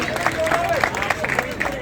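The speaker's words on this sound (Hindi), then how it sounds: "जोरदार तालियां।" Applause from a crowd at a Meghwal community talent felicitation gathering in Jhunjhunu, brisk clapping mixed with hall chatter over a short stretch, voices audible beneath it.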